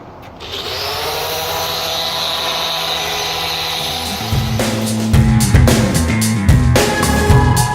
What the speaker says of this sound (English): Now I'm going to sand all the edges down. This I'm just using a 80 grain flat, 80 grit. grip flat disc.